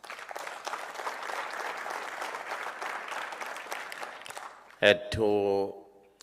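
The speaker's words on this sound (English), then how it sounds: "And can you give all of yourself a round of applause?" Audience applauding at a youth crime prevention gathering in a hall, sustained clapping for several seconds that stops abruptly before a loud tonal burst and a voice over a microphone.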